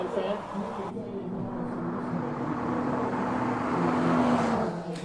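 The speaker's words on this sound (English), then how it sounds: "we want to try and get the sounds of the car to you as well" A race car at a hillclimb runs under someone talking over it, the engine note held steady with a sustained tone that swells slightly as it nears and then fades away.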